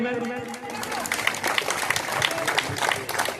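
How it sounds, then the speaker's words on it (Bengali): An audience at a village panchayat felicitation ceremony applauds with a busy patter of clapping, while a voice talks over it. "জোরে হাততালি করবেন"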